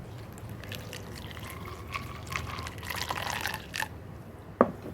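Water is poured into the front opening of a carved wooden trick jar, a recreation of a 300-year-old design, giving a soft liquid trickle and splash through the clip, ending in a sharp knock.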